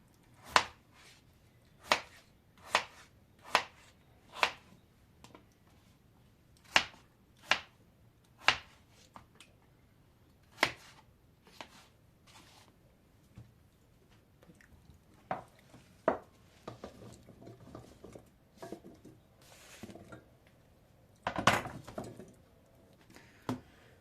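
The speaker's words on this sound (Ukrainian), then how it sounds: "нарізаємо картоплю. Картопля також такими доволі великими шматками." A knife chops raw potatoes into large chunks on a cutting board while preparing a pot roast baked in clay pots: crisp, close knocks in a steady rhythm that turns irregular, with a few heavier thuds near the end and no talking.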